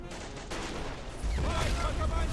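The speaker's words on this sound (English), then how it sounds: "Throw an anti-personnel grenade into this building." Anti-personnel grenade blast and rifle gunfire in the video game Battle of Empires, a dense continuous rattle of shots with a heavier burst of explosion noise midway.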